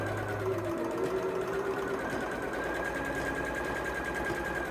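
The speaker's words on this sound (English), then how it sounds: "we'll do some stay stitching around the collar and armholes of the tops" Sewing machine stay stitching the collar and armholes of a double gauze shirt, a steady continuous whirring hum that runs close and even for the whole stretch with no voices over it.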